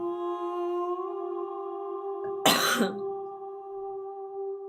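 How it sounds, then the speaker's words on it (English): A single sharp cough lands close to the microphone, cutting briefly through a steady musical drone. "coughs directly into the microphone"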